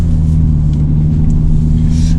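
Loud, steady engine drone inside a Mini John Cooper Works on a race track, a sustained low hum with a strong tonal note and no clear rise in revs over two seconds.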